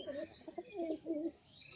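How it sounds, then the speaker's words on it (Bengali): Rajshahi Giribaz pigeons, a crested breed, give soft, low, rolling coos in a short run of calls, fairly faint and close by, with no talking. "রাজশাহী গিরিবাজ পায়রা স্ট্যান্ডিংটা"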